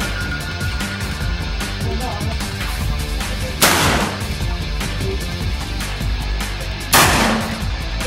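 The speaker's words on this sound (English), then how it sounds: "We also have black powder rifles and shotguns." Two sharp, loud gunshots from black powder rifles or shotguns at a scout camp range, spaced a few seconds apart against steady background noise.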